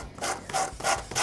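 Sandpaper rubs over a freshly hand-sawn end of driftwood in quick back-and-forth strokes, four close, scratchy passes with short gaps between them.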